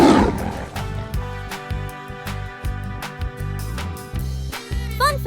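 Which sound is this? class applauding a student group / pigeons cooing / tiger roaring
tiger roaring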